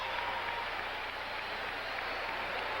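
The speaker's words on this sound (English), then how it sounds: "that's going to draw a cheer from the fans here in Washington" Hockey fans cheer in a Washington arena during a 1985 NHL playoff game between the Islanders and Capitals, a steady broadband roar of crowd noise that holds at an even level throughout.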